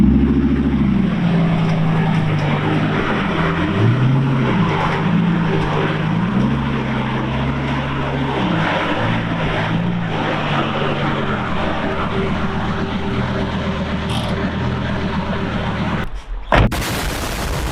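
A Lamborghini supercar engine drones steadily from behind while driving, its pitch rising and falling with shifting revs, loud and continuous, before cutting off abruptly near the end.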